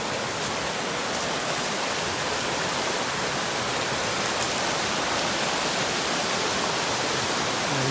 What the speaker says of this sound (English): show you the river. We're gonna hear this all night.